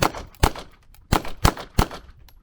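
.380 pocket pistol fired outdoors, five sharp, loud shots at an irregular pace with short echoing tails between them.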